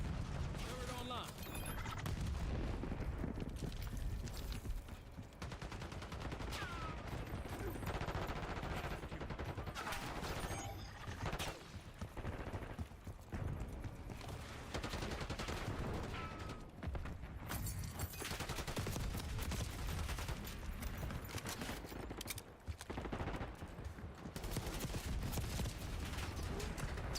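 Turret gunfire in a video game rattles on almost without a break, a dense, loud wall of rapid shots and blasts that barely lets up for the full stretch.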